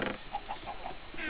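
Minecraft chickens giving a quick run of four soft clucks in a row over steady game ambience, brief and close.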